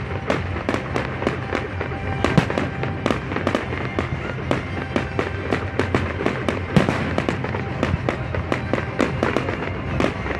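New Year's Eve fireworks in Ajka, Hungary, a loud, continuous barrage of sharp cracks and booming bursts firing in rapid, overlapping succession over a rumbling background.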